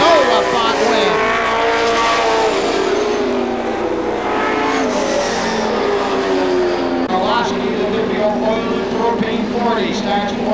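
Pro stock race cars roar past at the finish of a night feature race, engines rising and falling in pitch as they pass close and loud, with a race announcer talking over the noise.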